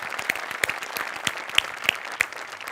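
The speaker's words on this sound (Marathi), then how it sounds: "त्या दोघांसाठी जोरदार टाळ्या झाल्या पाहिजे" A studio audience at the Marathi comedy show Maharashtrachi Hasyajatra applauds a performance with steady, lively clapping. Sharp individual claps stand out above the crowd.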